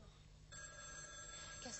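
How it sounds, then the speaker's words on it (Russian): A telephone rings in a television drama, a soft electronic ring that starts about half a second in and keeps going. It sounds faint, with a voice beneath it. "Кармен, надо же, телефон сбил меня"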